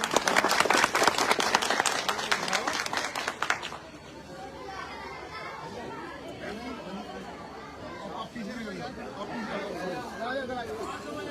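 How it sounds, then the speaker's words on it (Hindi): A village crowd bursts into loud clapping for a former local legislator at a rural blanket-distribution gathering, then the applause fades after a few seconds into murmuring chatter and voices. "मैं चाहता हूं एक बार उनके लिए भी जोरदार तालियां बजा दीजिए"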